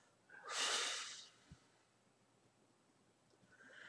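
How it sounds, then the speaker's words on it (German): A person breathes in through the nose and out through an open mouth: one loud, close exhaled rush of air, followed by a short faint tap and quiet stillness, with a softer breath starting at the end. "wir atmen durch die Nase ein und durch den offenen Mund wieder aus."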